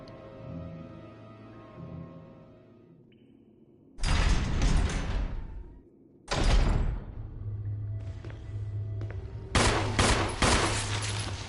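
Gunfire in the Resident Evil remake: sharp, loud bursts of shots arrive in separate clusters against a quiet low ambient background, each burst ringing briefly before cutting off.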